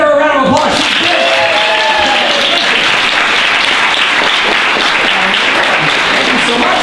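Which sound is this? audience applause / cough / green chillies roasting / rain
audience applause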